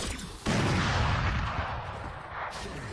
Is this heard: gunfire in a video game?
yes